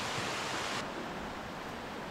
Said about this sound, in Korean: 2단 폭포가 이렇게 있고